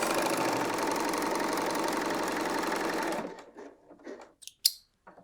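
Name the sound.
BERNINA L 890 sewing machine stitching a seam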